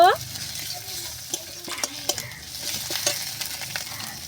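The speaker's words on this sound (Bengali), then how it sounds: "এবার দেবো আদা বাটা, এখানে দেবো রসুন বাটা, এখানে কাঁচা চিরা লঙ্কা দিয়ে দিলাম, দিয়ে ভেজে নেব।" Ginger paste, garlic paste and slit green chilies sizzle in hot oil with onions already fried until reddish-brown, for a Bengali stingray skin dish. A steady fry hiss runs throughout, with a spoon stirring and scraping the pan in scattered knocks and no voices.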